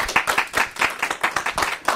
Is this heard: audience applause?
yes